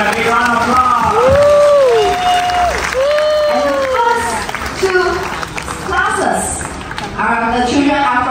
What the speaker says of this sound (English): your parents give a big round of applause!